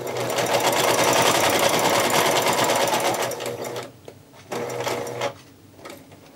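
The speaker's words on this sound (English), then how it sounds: "Now as we're stitching on the inside of these trees, we actually are going to need to do a front stitch and a back stitch," Sewing machine stitching a fabric Christmas tree ornament with forward and back stitching, a loud close rapid rattling run, then brief stop-and-start bursts.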